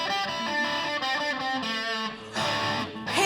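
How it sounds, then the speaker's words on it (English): Electric guitar played with heavy distortion and effects, sustained chords ringing out loud and close, with a brief change in the strumming near the end. "it's an electric guitar"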